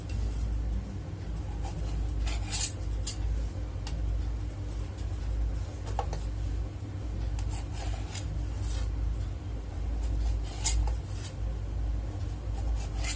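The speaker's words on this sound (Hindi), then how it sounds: "तो हम इसके पहले चारों कोनों को काट लेंगे।" A knife trims the corners off slices of bread at home, making quiet, repeated scraping and rasping strokes over a low steady background hum.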